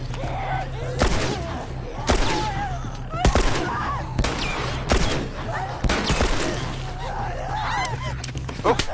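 Gunfire in The Last of Us comes as loud, sharp shots in a fusillade, roughly one every second, echoing over a low background hum.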